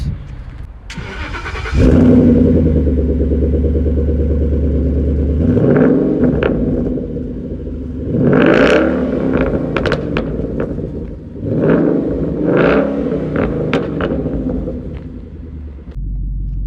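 Ford Mustang GT Premium with a 420-horsepower 5.0 V8 cranks and fires into a loud, deep idle, then gets three sharp revs that rise and fall, each bark swelling over the rumble before settling back.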